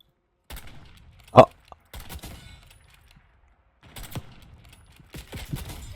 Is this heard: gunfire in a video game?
yes